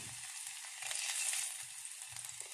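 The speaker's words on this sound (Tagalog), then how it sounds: "Igisa muna ako ng bawang, sibuyas, luya." Garlic, onion and ginger sauté in a hot pan for vegetables in coconut milk, a close, steady sizzle with faint stirring taps and no voices.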